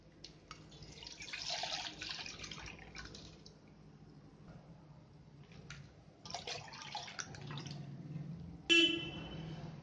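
Milk is poured into a pot in a home kitchen, a soft liquid splashing and trickling in a few bursts under quiet background clatter, ending with a sharp clink of metal.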